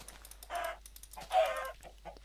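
Chickens clucking in a video game, two short close bursts of clucks separated by quiet.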